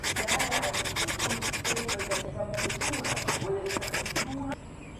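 Steady rubbing strokes of sandpaper smoothing a small handmade wooden fishing lure, continuous scratchy friction close up with brief pauses and no talking.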